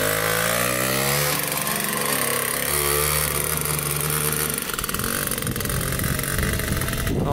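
Rare motorcycle engine running, a loud, close, rough droning whose pitch shifts as the throttle changes, with a buzzy, raspy exhaust.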